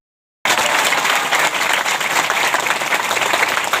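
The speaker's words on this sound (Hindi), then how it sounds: "ताली बजाने में कमी मत करिए" A congregation applauding in a church, dense sustained clapping that starts abruptly after a brief silence and continues loudly and evenly to the end.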